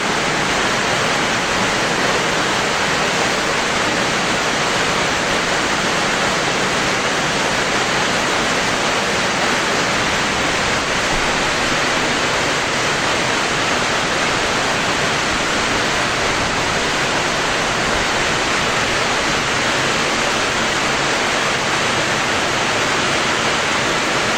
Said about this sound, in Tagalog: Lakas-lakas po ng ulan.